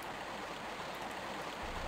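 A river rushes in the Lost Valley level of the video game Tomb Raider 1 Remastered, a dense, steady stream roar that fills the whole clip, close and unbroken.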